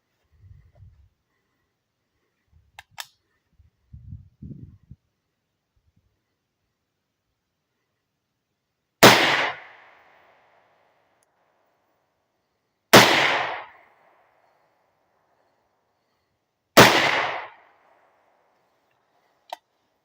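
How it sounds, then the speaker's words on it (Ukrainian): Three loud, sharp gunshots fired at 80 metres spaced a few seconds apart, each with a short echoing tail, after some quiet faint rustling. "зараз три постріла на 80 метрів"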